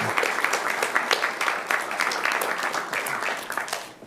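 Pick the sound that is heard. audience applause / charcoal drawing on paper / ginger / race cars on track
audience applause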